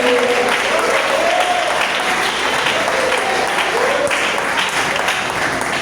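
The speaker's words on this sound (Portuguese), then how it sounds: "levanta a mão para o céu e dá uma salva de palmas para o Senhor" Congregation applauding in a church service, a loud, continuous wash of clapping filling the whole stretch, with a few raised voices and whoops rising briefly above it.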